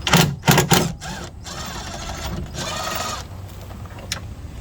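A ratchet with a deep-well 10 mm socket backs out bolts on a 2010 Chevy Silverado 1500 LT door mirror. It opens with close, sharp bursts of clicking, then settles into a steadier mechanical chatter.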